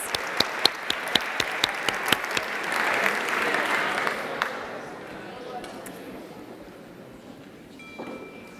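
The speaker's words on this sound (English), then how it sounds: "It does deserve a round of applause" Audience applause at an evening campfire program, opening with a few sharp close claps, then swelling into dense clapping that fades away over several seconds before a faint tone near the end.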